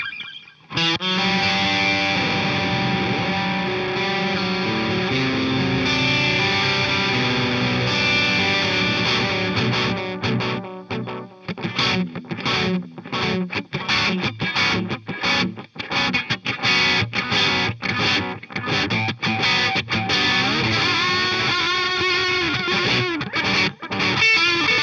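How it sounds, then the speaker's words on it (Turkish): An electric guitar runs through a Mooer Reecho delay pedal set to a slow delay with low feedback. It opens with dense sustained chords, then moves into choppy, repeated notes with echo trails. The playing is loud and steady, with no talking. "Biraz daha yavaşlatalım. Mesela feedback'ini biraz daha kısalım."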